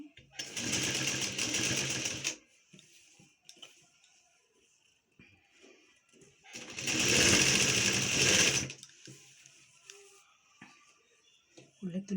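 An electric sewing machine stitches piping onto saree cloth in two loud, fast-running bursts. Each burst lasts about two seconds and is separated by a quiet stretch with faint handling noises.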